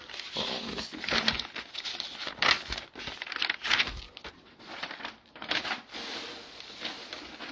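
Paper crinkles and rustles up close in repeated bursts and crunches, loud and continuous for several seconds with brief pauses between handfuls.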